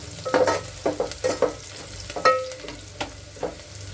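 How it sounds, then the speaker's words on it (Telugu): Coriander powder is stirred into mutton curry in a Telangana-style pot, with a spoon scraping in short repeated strokes over a soft background sizzle. "కొంచెం లైట్గా ధనియాల పొడి వేసుకొని కలుపుకొని"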